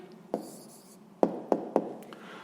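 A pen writes an answer by hand on paper, with soft scratching strokes and a few sharp taps, close and quiet, over a short moment.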